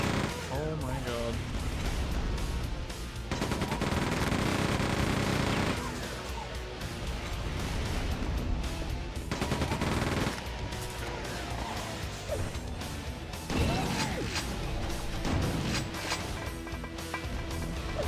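Grenades fired in Quake II pop out and explode in heavy crashing booms, several blasts spread across a busy stretch of gameplay with music, while a person talks over it.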